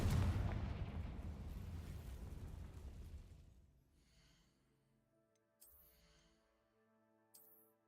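Confringo spell explosion in Hogwarts Legacy, a loud blast up front that decays into a long fading rumble, followed by quiet tonal ambience with two small later pops.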